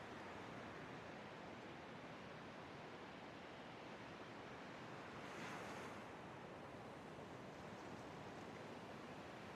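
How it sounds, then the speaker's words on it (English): Powerful ocean surf roars continuously as a broad, loud wash of crashing waves, with wind buffeting the microphone and a slight swell in intensity midway. "The waves are too powerful right now"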